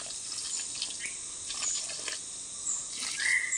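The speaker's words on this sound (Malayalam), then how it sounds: "വെള്ളം ഒഴിക്കുന്നത് വരെ പ്രത്യേക രീതിയിലായി" Water trickles and splashes softly onto garden plants such as tomato and chilli, a faint continuous pour with small surges, with no voices.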